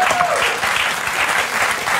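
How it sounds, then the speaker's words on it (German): Dense, steady applause from a television studio audience at a cooking show, loud and close, filling the whole moment with continuous clapping. "einen Applaus für diesen schönen Kartoffelteig"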